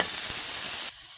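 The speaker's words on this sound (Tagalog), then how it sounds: "Ngayon, igigisa na natin guys." Ginger, onion and garlic hit hot oil in a pan for squid adobo, a bright, loud, close sizzle that drops off sharply near the end.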